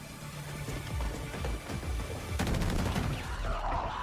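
Dense, continuous gunfire from a Black Ops 7 zombies intro cinematic, with rapid bursts and booming impacts layered over a loud cinematic soundtrack.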